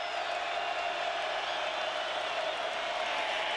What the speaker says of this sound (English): Here comes the crowd noise again.